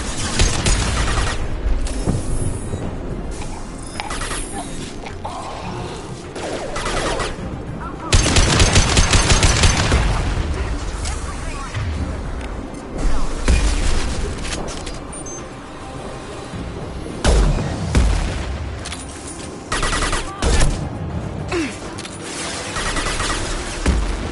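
Sustained gunfire from the video game Mass Effect 2, loud machine-gun bursts and single shots with occasional booms, nearly continuous with brief lulls and some speech mixed in.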